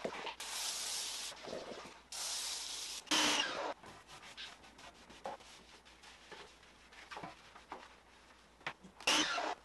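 A hand-pumped sprayer mists cleaner onto car wheels and tires during a wash of a ceramic-coated car, giving several separate bursts of close, loud hiss with quieter rubbing and handling noises between them.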